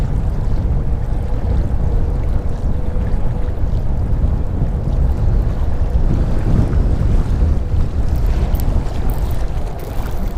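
Strong wind blows across an open boat on muddy water during a spring fishing trip, a constant loud roar and rumble of buffeting against the microphone with no talking.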